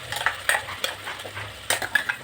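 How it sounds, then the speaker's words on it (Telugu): Ground paste tipped into a hot pan for paneer butter masala, with close scraping, stirring and light clinks of a spoon against the metal pan, plus a faint sizzle, and no voices. "ఈ గ్రైండ్ చేసుకున్న పేస్ట్ని నేను వేసేస్తున్నాను"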